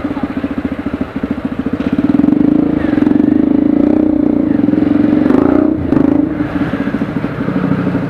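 A Motorstar motorcycle engine idles close by with a steady, fast pulsing throb, briefly revving louder in the middle before settling back to a rhythmic idle; no talking.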